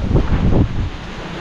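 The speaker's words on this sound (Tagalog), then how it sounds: "Sobrang lakas ng hangin." Heavy wind buffets the microphone in loud, rumbling gusts that ease off after the first half second into a steadier low roar.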